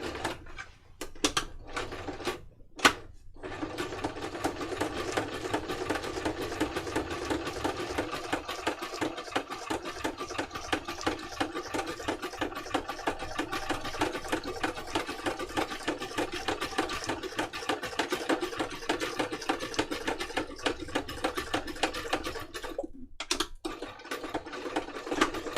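An older Toyota sewing machine stitches along a paper envelope, a steady, somewhat clunky mechanical whir that runs continuously, with brief pauses near the start and end, close and alone without voices.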